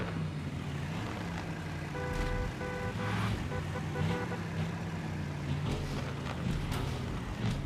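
In the video game Car Parking Multiplayer, a car drives into water: a low engine drone runs under a washing, surf-like splash, with a short run of electronic beeps partway through.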